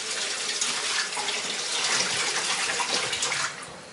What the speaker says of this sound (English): I'm just going to drain the water out.